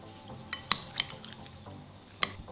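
Soft wet stirring of herring in oil with spices in a bowl, with a few sharp clinks of a utensil against the sides at irregular moments.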